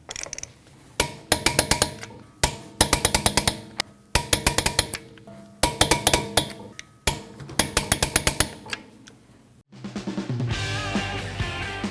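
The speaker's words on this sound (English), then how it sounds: "You want to torque your 5 lug nuts down to 100 foot-pounds in a star pattern." Lug nuts on a 2013-2019 Ford Escape wheel being torqued in a star pattern, five sharp bursts of rapid ratcheting clicks separated by short pauses, close and crisp, followed by a brief rougher noise at the end.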